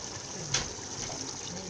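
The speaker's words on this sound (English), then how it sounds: "So I'm going to add a little water to it." A little water goes into a pot of catfish and melon soup, a soft continuous liquid pour with one brief splashy burst early on, close and fairly quiet.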